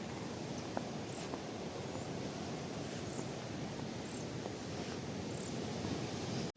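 Sea waves wash onto a clean, deserted private beach in front of a resort at Devgad, a soft, continuous surf hiss with faint wind, steady and distant, with no voices.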